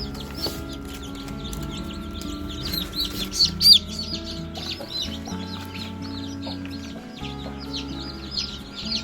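Newly hatched white chicks at a poultry farm peep in quick, high, scattered bursts over a steady tonal hum in the background.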